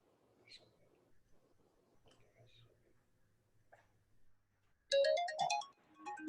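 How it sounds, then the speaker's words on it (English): A mobile phone ringtone bursts in loudly near the end, a bright chiming melody following a stretch of faint, quiet background murmur. "Sorry, my phone is ringing."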